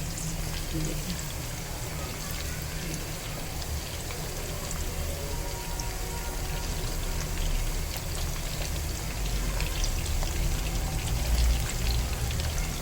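Koftas frying in hot oil in a pan, a dense, steady sizzle and crackle that fills the whole stretch close by, while a voice talks over it at times.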